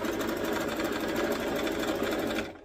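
A sewing machine stitching dress panels with cone thread runs steadily and loudly up close, a fast continuous mechanical whir that stops abruptly at the end.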